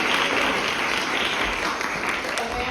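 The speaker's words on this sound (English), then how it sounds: "Amanda, let's give her a round of applause" An audience at a magic show for a sister appreciation week gives steady, dense applause, a continuous wash of many hands clapping at moderate loudness for nearly three seconds.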